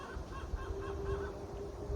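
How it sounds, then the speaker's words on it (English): Chickens cluck and call faintly in the background outdoors, a few brief repeated squawks over steady low ambient noise. "except for the chickens in the background."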